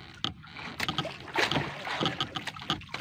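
A wooden outrigger boat on the water gives splashing and knocking sounds, irregular bursts that rise and fall with wind noise and no clear speech.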